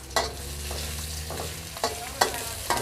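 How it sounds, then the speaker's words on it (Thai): Garlic sizzles steadily in a hot pan while a utensil scrapes and stirs, giving a few sharp clacks against the metal. "เจียวกระเทียมอะคะ"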